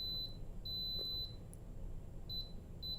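An Instant Pot Pro beeps as its dial is pressed, with several short, thin electronic tones in quick succession over a low background hum, close and clear.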